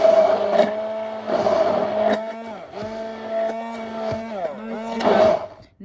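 A kitchen machine whips homemade mayonnaise as oil is added, its motor giving a steady, close harmonic whine that dips and bends in pitch as the thickening mixture drags on the blades.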